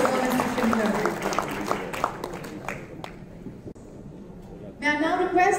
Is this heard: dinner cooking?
no